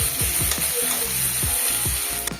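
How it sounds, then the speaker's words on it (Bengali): Spiced masala with chili powder being fried and stirred in a pan, a continuous close sizzle with repeated scraping strokes of a spatula at a regular rhythm. "এবার ঝাল ভালোভাবে মশলাটাকে কষে নেবে"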